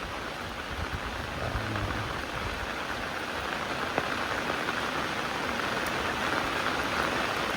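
Heavy rain pouring steadily outdoors in rural Thailand: a dense, even hiss of falling drops on surfaces, constant and fairly loud, with a faint low engine-like rumble underneath and no talking.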